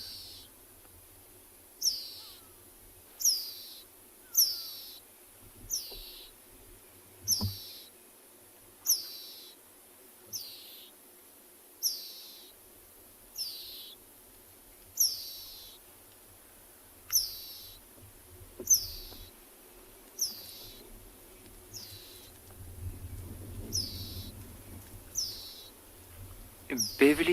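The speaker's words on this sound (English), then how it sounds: "that noise we're hearing is that little dwarf mongoose in distress" Young dwarf mongoose squealing in distress in the South African bushveld during a leopard sighting, a series of high, thin repeated squeals at regular intervals, faint and distant with low rumbling background noise.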